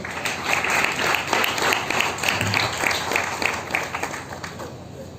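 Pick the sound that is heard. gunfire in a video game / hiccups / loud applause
loud applause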